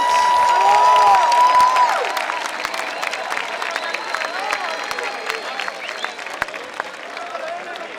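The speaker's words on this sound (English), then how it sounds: "So I would like to have a really big applause for Planning Team Production 2018 and all the ICC and Hubs." Loud applause from a large audience at the Roverway 2018 scout opening show in Zeewolde, steady dense clapping that swells at first and then carries on more evenly throughout.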